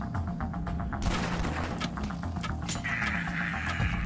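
Gas cylinders blowing up in the Last Stand 2 video game: a dense run of sharp, loud bursts and booming blasts over a steady low rumble, with a bright hissing tone rising near the end.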